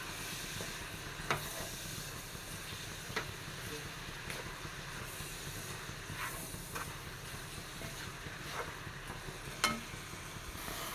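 Moringa leaves sauté in hot oil in a pan, giving a faint, steady sizzle with occasional light clicks of a spoon stirring, and no one speaking.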